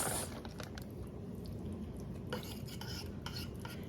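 A spoon stirs Monterey Jack cheese into a chicken salsa verde soup in a pot, giving close wet swishing and scraping strokes with a few metallic clinks over a steady background hiss, no voices.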